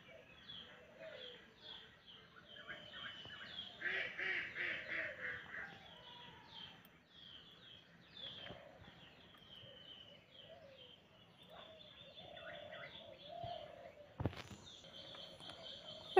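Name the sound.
pet parrot calling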